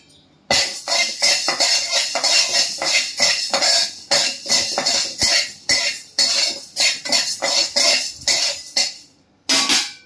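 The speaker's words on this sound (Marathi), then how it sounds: "आता ज्वारी पण आपण तशीच थोडीशी हलकीशीच भाजून घेतो" Jowar (sorghum) grains dry-roasting in a pan give a rapid run of sharp rattling scrapes and clatters, close and loud in quick irregular bursts, with brief quiet gaps at the start and end.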